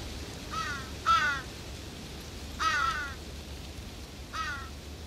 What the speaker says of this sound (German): Dann haben die Rabenkrähen den Kadaver entdeckt.